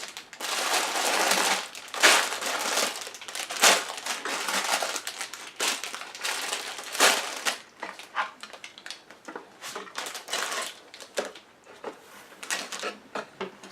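Cardboard Lego box for a Steamboat Willie set being cut open, with scraping, crinkling and tearing sounds in irregular bursts, close and fairly loud, no talking.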